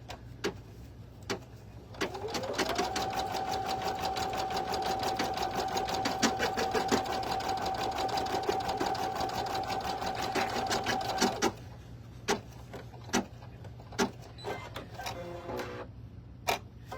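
An embroidery sewing machine stitches an in-the-hoop bow at a raised speed, giving a loud, steady rapid mechanical clatter with a sustained motor whine for about nine seconds, then quieter intermittent clicks and taps.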